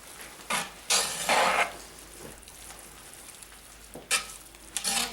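Funeral potatoes mixture stirred in a dish, a few short scraping bursts of a spoon dragging through the thick mix with quiet pauses between, close and soft, no talking.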